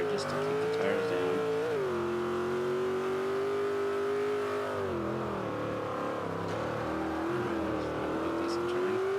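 A Jeep SRT8 engine in Forza 5 revs steadily at partial throttle through a corner, its pitch dipping and rising with the load, loud and continuous, with a voice talking over it.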